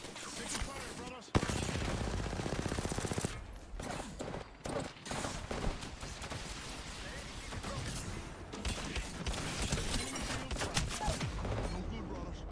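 Gunfire in the video game Apex Legends: dense, loud bursts of automatic weapon fire and impacts that run almost without a break, with game sounds and a voice line mixed in.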